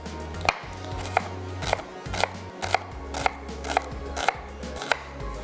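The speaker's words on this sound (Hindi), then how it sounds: "प्याज ले लेते हैं, प्याज को कर लेंगे चॉप्ड।" An onion is chopped on a board, about ten sharp, evenly spaced knife knocks, close and clear, over a low hum.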